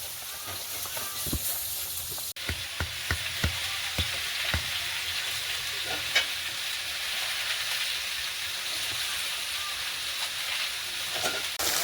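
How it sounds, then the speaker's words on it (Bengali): Fish fry in a pan with a steady sizzle, broken by a few sharp clacks and taps as the pieces are turned over. "এই মাছগুলো একদিকে ভাজা হয়ে গেছে আর একদিকে উল্টে দিয়েছি"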